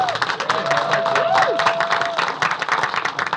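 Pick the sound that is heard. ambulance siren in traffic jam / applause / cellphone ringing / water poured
applause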